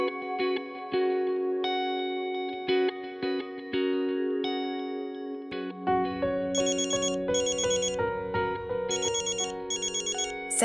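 A telephone rings in a domestic drama scene, a repeating electronic ringtone chirping in bursts over a swelling music score, fairly loud and steady toward the end.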